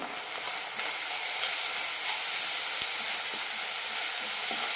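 Masala with chili powder, tomato sauce and chili sauce sautéing in a pan, a steady close, loud sizzle and hiss of frying with faint stirring scrapes, no talking.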